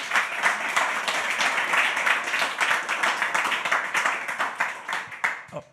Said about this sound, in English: another applause for Louis.